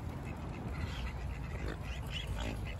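Ducks quack at a pond, their calls scattered and mid-distance over a steady outdoor background with some wind noise.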